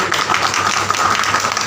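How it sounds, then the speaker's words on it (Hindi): Audience applause at a political party membership and workers' gathering: steady, dense clapping from a crowd, loud and continuous throughout the short stretch, with no talk. "जोरदार तालियां होनी चाहिए दोस्तों।"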